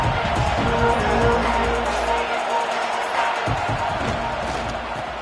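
Football stadium crowd at a Penn State game roaring and cheering steadily, a dense broad wash of voices under play-by-play commentary.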